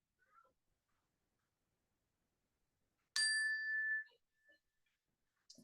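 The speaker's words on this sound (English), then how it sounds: "You can enjoy the sound of the bell as it fades." A meditation bell is struck once during a quiet sitting session and gives a clear, bright ringing tone that fades away over about a second into near silence.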